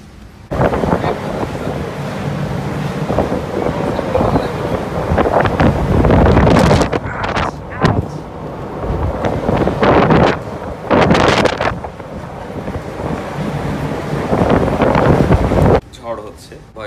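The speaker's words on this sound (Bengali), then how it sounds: "বাইরে অন্ধকার হয়ে গেছে, প্রচণ্ড বাতাস আর বৃষ্টি," A ship rolling through a storm on the Atlantic Ocean at night: loud, continuous wind roaring over the microphone with rushing waves and rain, surging in strong gusts, while a voice speaks over it.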